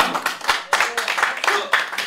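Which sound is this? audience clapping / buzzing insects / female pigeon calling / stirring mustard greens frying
audience clapping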